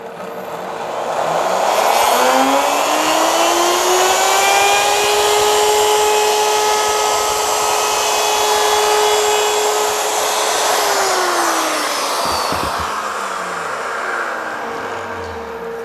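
A router spins up and cuts scrap wood, its high whine rising, holding a loud steady tone for several seconds while chewing through the wood, then winding down near the end.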